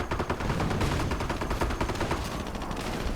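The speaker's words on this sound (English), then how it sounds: "he's getting constantly hammered by artillery" Dense artillery and gunfire from a real-time strategy battle rattle on without pause, rapid overlapping shots and blasts filling the whole stretch at high volume.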